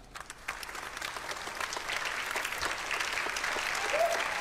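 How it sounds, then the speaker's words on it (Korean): Wedding guests applaud the bride and groom at a ceremony, the dense clapping swelling gradually and growing louder toward the end, with a brief voice-like sound near the close. "내빈 여러분은 모두 일어나셔서 신랑 신부에게 축하의 박수를 보내주시길 바랍니다."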